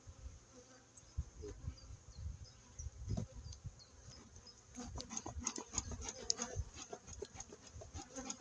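Honeybee colonies at an apiary, being readied for the first acacia honey flow, produce a low, continuous buzzing hum, quiet and close, with scattered handling clicks and rustles growing busier in the second half.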